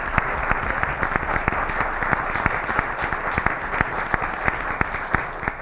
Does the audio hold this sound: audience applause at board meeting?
yes